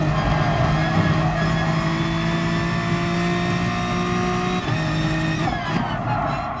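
A race car engine in Gran Turismo Sport at Brands Hatch drones loud and steady, holding a high harmonic pitch with slight shifts and a brief dip near the end, tires faintly squealing underneath.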